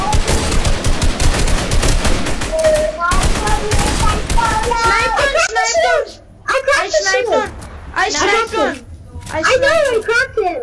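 Sniper rifle fire in a Fortnite match, sharp shots cracking amid dense, busy game noise while excited young voices shout over the action.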